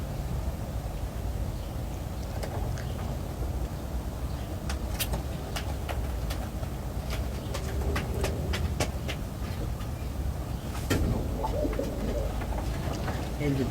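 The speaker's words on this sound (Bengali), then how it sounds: "মায়াবী, একদম মায়াবী কবুতর, দেখার মতো।" Pigeons coo among scattered sharp clicks and taps, with a low rumble like distant traffic underneath throughout.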